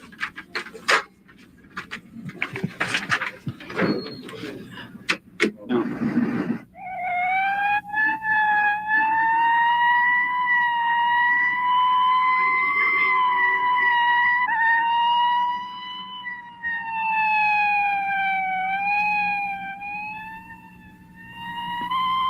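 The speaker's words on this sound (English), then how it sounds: "the urgent sound of an emergency vehicle is just a noise we hear in the distance" A wailing emergency vehicle siren rises and falls loudly and close for most of the stretch, preceded by several seconds of clattering, bumpy noise before it starts.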